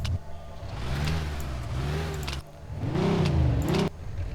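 In the video game Mafia 2, a car engine revs up and settles twice in close succession, its pitch swelling and falling with a brief drop between the revs, heard alone and fairly close.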